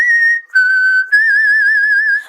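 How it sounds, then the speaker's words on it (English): A person whistles a short tune alone, three clear sustained notes with a brief gap after the first, the last note wavering with a slight vibrato, loud and close. "Let me try some whistling."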